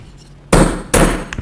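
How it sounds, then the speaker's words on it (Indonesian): A metal hammer strikes a hole punch on a slip-on shoe pattern twice, loud and close, each sharp bang ringing briefly, with a light tap after. "Wah, ini palu."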